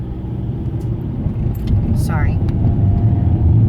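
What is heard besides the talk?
car engine while driving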